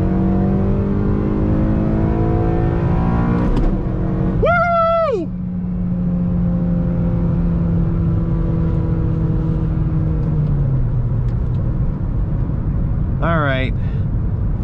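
Honda Civic Si with a manual gearbox accelerating, its engine drone loud and steady throughout, the pitch rising and then easing down near the end, with brief bursts of other sound cutting in over the top.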